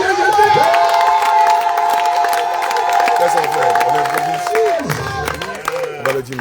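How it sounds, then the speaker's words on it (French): A church congregation cheers and acclaims loudly, a dense wall of shouting voices with whoops near and far, joined by a sustained organ-like tone that drops away near the end. "On acclame encore le Seigneur Jésus"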